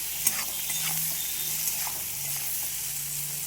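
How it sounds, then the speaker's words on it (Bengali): Chopped onions for mutton curry sizzle and fry in a pan, a steady close crackle broken by scraping stir strokes, with no talk. "পেঁয়াজটা আবার লাল লাল করে ভাজতে হবে একটু।"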